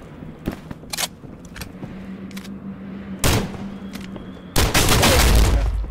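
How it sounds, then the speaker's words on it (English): Gunfire echoes through a VR shooter match in Contractors Showdown: scattered single shots and short bursts, some distant, building to a loud, dense volley at the end. "Someone's on the bridge shooting at me?"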